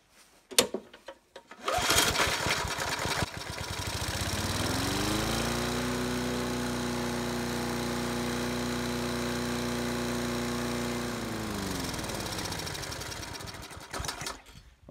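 A 20-inch Home Hardware Land Mark bagger lawn mower has its small gasoline engine coughing, then catching and running at a steady, loud drone that slows and cuts out near the end, with no talking.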